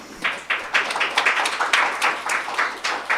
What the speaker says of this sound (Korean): 모두 박수 부탁드리도록 하겠습니다